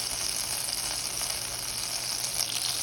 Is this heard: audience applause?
no